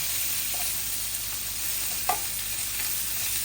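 Fish pieces frying in a modest amount of oil in a pan, a steady broadband sizzle throughout with a single brief spatter pop near the middle, close and even.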